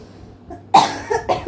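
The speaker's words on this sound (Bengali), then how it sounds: "কাশি হয়েছে" A single sharp, close cough bursts out, followed by a couple of shorter, weaker coughing sounds in a quiet indoor room.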